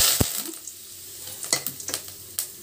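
Curry leaves drop into hot oil already crackling with urad dal and mustard seeds for an Andhra-style raw banana fry, giving a sharp burst of sizzle followed by quieter spattering and a few utensil clinks.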